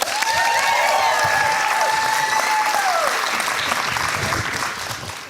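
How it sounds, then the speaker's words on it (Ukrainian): Loud, sustained applause from a comedy show audience fills the stretch, a dense wash of clapping with a high whistle-like tone gliding through it, then tapering slightly near the end. "Ваші оплески, друзі!"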